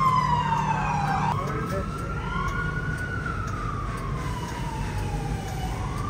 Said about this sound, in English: There's an ambulance now.